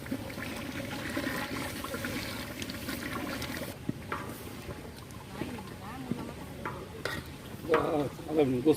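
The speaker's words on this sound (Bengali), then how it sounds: "এবার মশলাটাকে ভালোভাবে কষিয়ে নেব" Spice paste with ground cumin is stirred and fried in a pan for a Bengali beef curry. A close, continuous sizzle comes with scraping stirs and a few louder scrapes, and a voice is heard intermittently.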